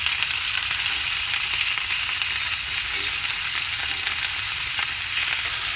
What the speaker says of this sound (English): We're just going to fry these up for 5-6 minutes on each side.